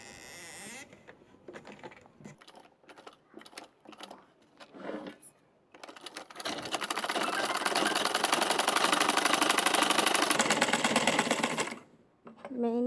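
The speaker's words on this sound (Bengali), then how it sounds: "প্রথমে আমি মেইনি সেলাই দিব" A sewing machine stitching fabric for baby underpants, starting with scattered clicks and handling noises, then running in a loud steady buzzing whir for several seconds before stopping. Nearby speech can be heard at moments.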